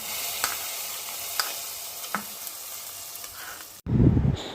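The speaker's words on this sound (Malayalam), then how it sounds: "നമുക്ക് അണ്ടിപ്പരിപ്പ് ഇട്ട് കൊടുക്കാം. ഫ്രൈ ചെയ്യാം കേട്ടോ." Cashew nuts frying in a pan, a soft steady sizzle with a few light utensil clicks, then a louder, duller rustling burst near the end.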